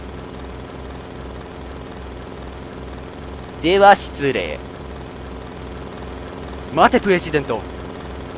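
In the Final Fantasy VII game, a helicopter engine gives a steady low rhythmic thrum with a regular pulse throughout, heard under two bursts of character dialogue.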